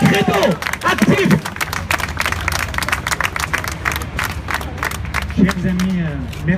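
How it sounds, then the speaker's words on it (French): An outdoor crowd at a political demonstration claps and cheers in a dense, continuous burst, with voices calling out and a speaker's voice rising over the applause. "sous vos applaudissements"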